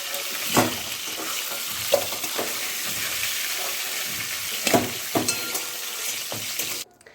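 Mustard oil sizzles and fries in a wok. Scattered stirring scrapes and clatters break through a steady hiss, and the sound cuts off near the end.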